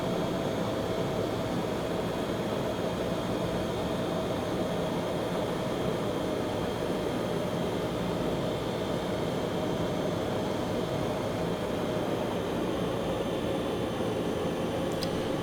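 Hawker HS748 turboprop taxiing in the Prepar3D flight simulator, a steady droning engine hum with broadband rumble that holds constant and fairly loud throughout, with no voices.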